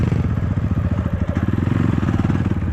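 A KAYO TSD 110 enduro motorcycle engine revs hard and steadily during off-road cross training, a loud, close, continuous buzzing drone with rhythmic pulsing throttle changes and no pauses.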